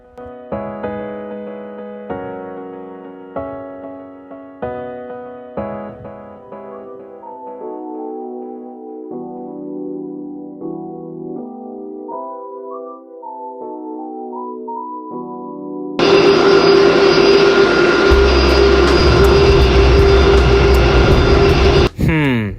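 Soft melodic music plays for a while, then an Airbus airliner in the GeoFS flight simulator game cuts in with a loud, constant jet engine roar that holds steady before breaking off abruptly.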